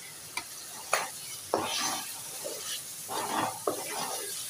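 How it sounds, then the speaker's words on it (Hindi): Ground spices such as crushed chili and turmeric with vegetables sizzling in a hot pan, a steady close frying hiss broken by repeated scraping strokes of a spoon stirring. "इनको भी थोड़ा भून लेंगे।"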